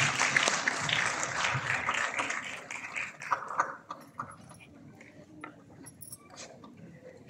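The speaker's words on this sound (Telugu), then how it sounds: "A big round of applause, please." An audience applauds a guest of honour being felicitated at the launch of a youth-focused centre. The clapping is full and lively for a few seconds, then thins into scattered claps and fades out.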